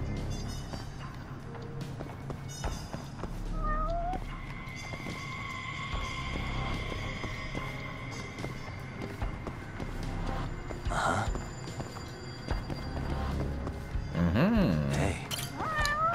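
A cat meows in the PlayStation 5 remaster of the video game Judgment. A couple of short, rising mews stand out over steady game ambience and background sounds.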